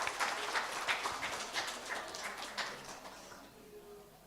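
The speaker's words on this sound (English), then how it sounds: "Please give applause for Dr. Ija Khadijah MA as the speaker today" An audience at a conference on teaching English to young learners in Indonesia applauds its speaker, a spread of scattered hand claps that is fairly faint and fades toward the end.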